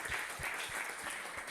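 A church congregation at a revival service claps steadily in rhythmic beats, with a bright wash of cheering voices over the top, loud and continuous.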